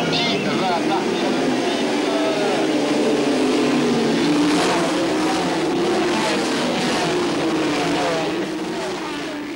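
A dense, roaring wall of many racing engines at once at the start of a 24-hour endurance race, loud and continuous, with pitch swells as cars pass, and a voice partly audible beneath.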